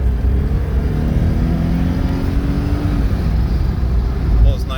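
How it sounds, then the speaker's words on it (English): A 1983 Porsche 944 pulls in second gear at low revs, its steady engine drone rising slowly and filling the cabin alongside road noise, with a faint rising tone near the end. "Give you a little low RPM grunt down low."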